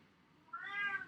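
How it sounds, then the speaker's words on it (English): A single cat meow, rising and falling over about half a second, moderately close and alone. "You meowed?"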